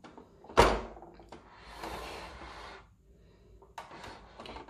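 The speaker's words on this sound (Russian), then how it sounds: "С двух сторон вот таким вот образом открываются двери." The doors of a plastic toy school bus case, a Schoolbee car garage from Robocar Poli, open with a sharp plastic snap, then softer sliding and rustling and a few light clicks, close and quiet.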